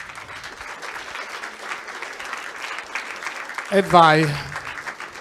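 A studio audience claps and cheers steadily at a podcast taping, a broad wash of hands at moderate distance, and a voice calls out briefly near the end over the applause.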